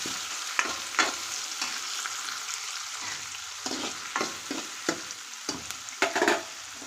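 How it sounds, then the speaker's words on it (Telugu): Green chillies fry and sizzle in a pan for a cucumber-tomato curry under a steady hiss, while a spatula stirs with repeated close scraping knocks at an uneven pace. "వీటిని మొత్తం మిక్స్ అయ్యే విధంగా కలిపి వీటిని వేయించాలి"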